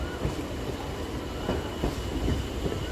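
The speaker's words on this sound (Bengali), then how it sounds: "ট্রেন ছাড়লো 6:13-তে।" A Sealdah-Dankuni local train with an ICF rake pulls out of Sealdah station, its wheels rumbling loudly and steadily with faint rhythmic clacks as it rolls along close by.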